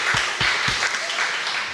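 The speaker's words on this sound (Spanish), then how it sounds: "Damos un aplauso al Señor," Congregation at a Spanish-language church service applauding, a few distinct claps followed by a dense burst of clapping from many hands, close and lively.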